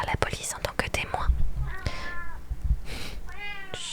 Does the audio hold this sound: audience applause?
no